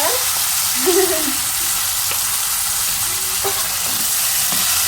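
Vegetables dropped into hot oil with asafoetida, with mustard seeds and cumin already crackling, raise a loud, close, continuous sizzle. Occasional faint clinks sound from the pan and there is no talking.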